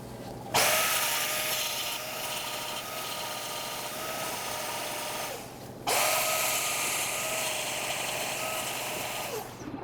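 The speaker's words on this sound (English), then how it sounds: "grind down the weld so that the plate lays flat. I like to use a cutoff wheel for precision on the ends here" A grinder fitted with a cutoff wheel grinds down a weld on DIY steel trailing arms, a loud steady high whine in two long passes with a brief break between them, heard close up with no voices.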